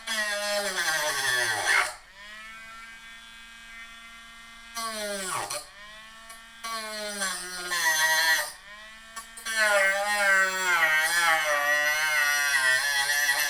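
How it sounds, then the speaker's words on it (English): A Dremel rotary tool, a low-powered model, whines in steady bursts with rising and falling pitch, stopping briefly between runs, loud and close with no talk over it. "I will say that this is not the most powerful Dremel."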